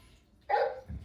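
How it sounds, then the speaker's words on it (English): A Playskool Alphie robot toy plays a single short electronic dog bark, close and fairly loud, followed by a faint low thump. "The mommy dog can't find her puppy."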